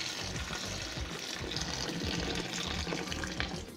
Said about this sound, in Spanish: Y ahora le agregamos el agua para empezar a armar esta sopa. Y le voy a agregar primero 1 litro.